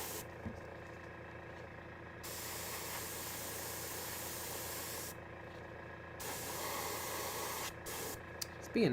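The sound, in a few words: airbrush spraying paint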